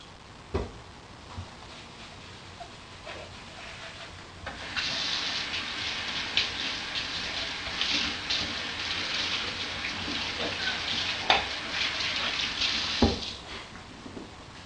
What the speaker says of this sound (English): And then wash the neti pot.